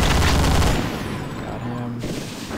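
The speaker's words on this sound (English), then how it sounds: "Let's use our Vulcan cannon." Vulcan cannon in the video game Doom 2 letting off a loud, rapid burst of gunfire at close range, the heavy barrage cutting off after about a second into a fading electronic tail.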